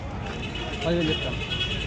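A single short bleat from a local sheep rises over a murmur of background voices and crowd noise at a livestock market, close by and brief.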